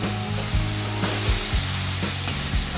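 Vegetables with tomato ketchup and sauces sizzle steadily in a hot pan while a spoon stirs them, scraping and knocking against the pan in a loose repeated rhythm, close and clear with no talking.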